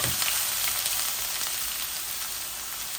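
Steady, loud sizzling of a large onion frying in a hot pan, continuous throughout with no talking.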